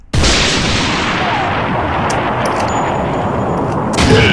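Sniper rifle fire in the shooter game Candy Mountain Massacre Revenge: a loud, booming shot opens into a long reverberant rumble, with another sharp blast near the end.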